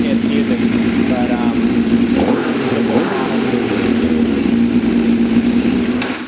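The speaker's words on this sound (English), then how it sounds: "And she fires right up. A little bit loud. That's the Yost exhaust making its music." A Suzuki GSX-R motorcycle idling with a Yoshimura exhaust, a loud, steady, close throb with a slight blip in the middle, while someone talks over it throughout.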